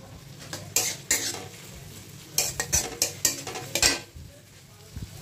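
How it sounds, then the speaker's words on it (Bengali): Onions fry in a pan for a chicken pulao, with a quiet low sizzle under a series of sharp spatula scrapes and clinks against the pan, in bursts with short pauses. "পেঁয়াজটাকে আমি ভেজে নেব"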